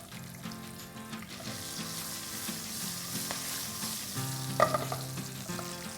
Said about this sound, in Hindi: नेक्स्ट इसके अंदर डाल दूंगा ये होल रेड चिलीज़, हरी मिर्चें बारीक कटी हुई, कड़ी पत्ता साउथ इंडियन खाने की जान है तो ये डाल देंगे